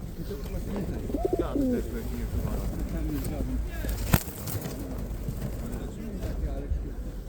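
Pigeons at a pigeon market in Radom coo in low, rolling calls close by, several overlapping in the first seconds, under a busy background of people talking and crowd noise.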